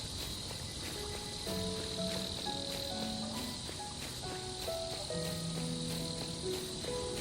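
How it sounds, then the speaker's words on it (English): A steady, shrill buzzing chorus of cicadas fills the trees, with scattered bird chirps and tones underneath. "The calls of the cicadas get louder and louder as I'm surrounded by the trees"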